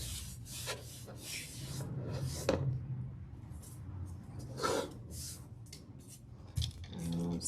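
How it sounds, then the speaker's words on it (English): A leather steering wheel is wiped down with rubbing alcohol, giving soft, steady rubbing and squeaking strokes close by over a low background hum. "just clean off the leather with rubbing alcohol"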